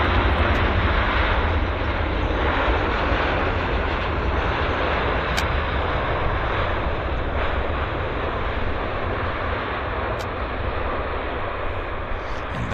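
A Lufthansa Boeing 787 airliner arriving from Frankfurt at Vancouver Airport produces a broad, steady engine roar that holds loud and constant, then eases slightly toward the end, with no voices.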